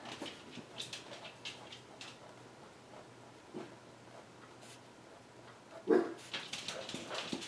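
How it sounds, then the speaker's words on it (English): A dog barks several times in short, scattered bursts, faint and somewhat distant, against a quiet indoor background. "there go one of my dogs barking"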